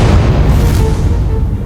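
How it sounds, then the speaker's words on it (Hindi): A bomb explosion from a CID crime TV show booms loud and close, a dense low roar that stays steady and slowly fades over under two seconds. "मगर फिर ये अपने आप कैसे फट गया?"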